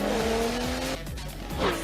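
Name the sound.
Pocket Racers micro RC toy cars racing, tires squealing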